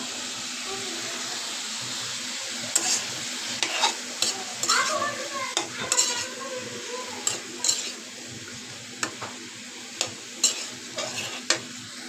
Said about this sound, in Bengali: হলুদ আর লবণ অ্যাড করে দিছি এখন একটু ডাইকে দিব ফাঁকা ভাজা হোক